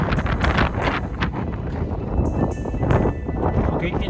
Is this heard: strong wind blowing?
yes